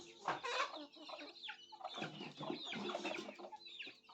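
Country hens cluck in repeated short bursts, close by and fairly loud, with several birds overlapping.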